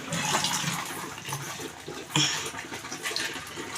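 Dried prawns are washed by hand in water, giving a close, continuous sloshing and splashing with a brief stronger splash partway through.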